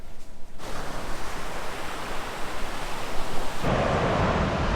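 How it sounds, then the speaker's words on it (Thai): Sea waves rolling onto a beach near a hotel, a steady loud wash of surf noise that swells toward the end, mixed with some wind buffeting and no talking. "เราเห็นว่าทะเลมันน่าเล่นเนาะ"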